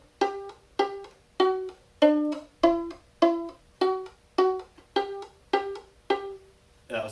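Eleven evenly spaced plucked single notes on an orchestral string instrument, a simple melody from the tune Morning Dance, each short and decaying quickly, played slowly and alone at moderate volume.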